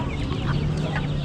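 Chickens cluck and chatter steadily at a busy livestock market in Berkane, Morocco, many birds overlapping close by over a constant crowd murmur.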